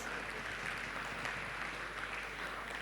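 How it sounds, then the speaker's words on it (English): Applause from an audience at an airport industry conference in Yashobhoomi, Dwarka, as a guest is called to the stage. Steady, dense clapping that stays fairly faint and even throughout, with no voices over it. "Can we have a big round of applause for Sir"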